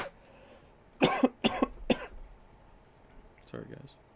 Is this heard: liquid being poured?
no